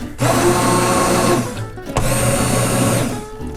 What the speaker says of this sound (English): If you fill your blender up all the way with a really hot liquid like this, when you hit go